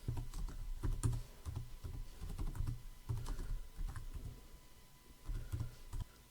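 Rapid, steady typing on a computer keyboard, close and clear, with uneven bursts of key clicks and brief pauses between them.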